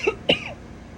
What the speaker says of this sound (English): Excuse me for coughing on the camera phone.